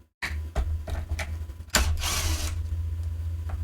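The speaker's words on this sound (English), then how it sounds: "now we need to remove these screws here" Screws are backed out of the nozzle base of a Hoover UH70935 vacuum, producing a close, buzzing driver whir with ratcheting clicks and a louder surge partway through.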